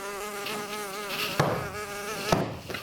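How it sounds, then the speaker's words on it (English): A mosquito whines close by, a steady high-pitched buzz with wavering pitch, broken by a couple of sharp slaps or taps. "Just killed a mosquito."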